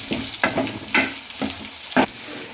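A tempering of seeds, green chilli, curry leaves, shallots and asafoetida sizzles in hot oil, with a steady fry punctuated by four or five sharp bursts of spluttering or stirring, close and loud.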